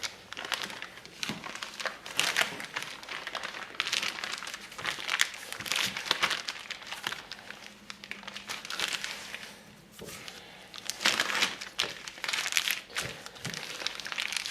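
Carp bait mix of wheat germ being smashed and squished inside a plastic bag, a steady run of crinkling, crunching handling noises that come and go in bursts with no talking.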